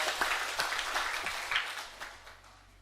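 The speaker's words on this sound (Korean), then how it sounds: "우리 호산나 찬양대를 위해서 격려의 박수도 한번 해주겠습니다" Church congregation applauding the Hosanna choir during a Sunday service, a steady wash of many hands clapping at moderate distance, fading slightly toward the end with no talk over it.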